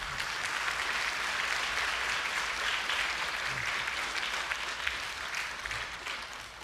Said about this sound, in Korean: 다시 한번 강창희 의장님께 큰 박수를 부탁드립니다